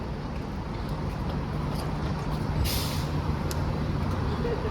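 A city transit bus idles at a downtown Edmonton bus stop, a steady low engine rumble with an air-brake hiss near the middle, close by amid street noise; people talk nearby.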